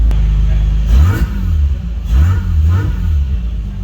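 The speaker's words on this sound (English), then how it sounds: "Got that cool Supercharger whine" A revving Nissan engine with its supercharger whine climbs and falls in repeated close, loud surges, a rising whine riding over the deep engine note, with a voice speaking over parts of it.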